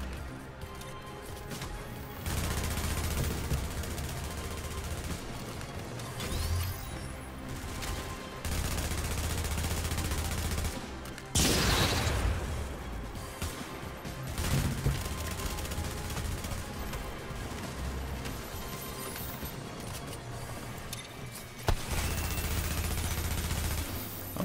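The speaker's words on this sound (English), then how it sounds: "I'm shooting you, man." Gunfire from The Division, a third-person shooter, played in the Dark Zone: dense, loud bursts of automatic fire and sharp impacts repeat through the scene, with a brief louder burst near the middle and occasional talk underneath.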